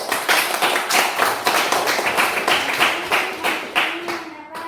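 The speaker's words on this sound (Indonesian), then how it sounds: "tepuk tangan untuk kelompok 1" A classroom audience of teacher trainees claps for a student group after its presentation. Loud, close, evenly spaced claps sound in a steady unison rhythm, about three per second, and a faint voice rises near the end.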